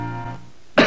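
A single short cough in a Fisherman's Friend throat lozenge commercial, sounding abruptly at the very end right after a sustained musical tone.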